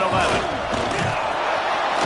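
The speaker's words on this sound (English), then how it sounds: "The Red Raider crowd rising to the occasion to help its defense on 3rd down" Crowd noise fills a football stadium as Red Raider fans roar to support their defense on third down, a dense, sustained wall of cheering with a commentator's voice over it.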